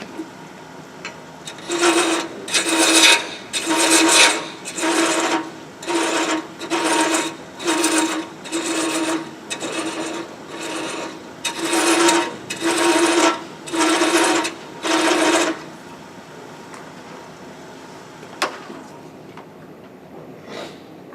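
A wood lathe cutting threads, giving about a dozen evenly spaced raspy passes of a second or so each, loud and close, then a quieter stretch with a few faint knocks.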